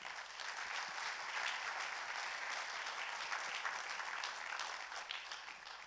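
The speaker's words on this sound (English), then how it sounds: "Let's give them an applause." Sustained audience applause at a Disrupt Asia 2017 conference morning keynote, a steady dense wash of many hands clapping throughout, moderately distant and even in level with no talk over it.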